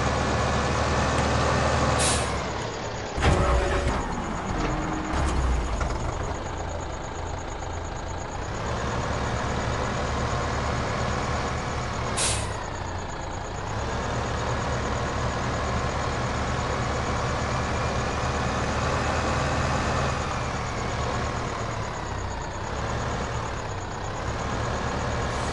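Tractor engine in the video game Farming Simulator 15, a loud, steady engine drone running throughout, with sharp air-brake hisses near the start and again partway through.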